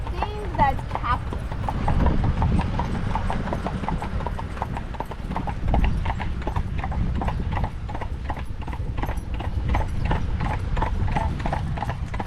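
Horses' hooves clip-clop in a steady rhythmic beat on a hard surface, pulling a buggy in Intercourse, Pennsylvania Amish country, with people talking over the sound.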